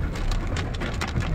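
Heavy rain drums on a car on an empty road, a dense close patter with scattered louder drops and no voices.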